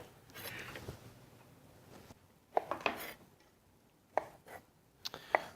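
Knife cutting mushrooms on a cutting board while a pan heats nearby, giving a few sharp, close chopping knocks in short bursts with quiet gaps between them.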